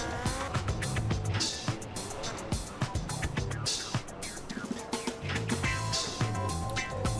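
Motorbike driven in a GTA game, loud engine revving and tire noise with repeated bursts and clatters throughout, game music and effects dense underneath.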